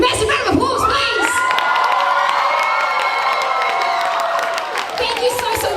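A crowd at a cosplay competition cheers, shouts and whoops loudly and continuously on stage, with scattered clapping underneath the sustained roar of voices.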